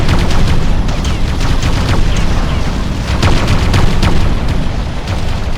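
An enemy Haverdyne unit is blown up in the real-time strategy game Ground Control, with a dense stream of booming blasts and sharp gunfire-like cracks in steady, loud succession.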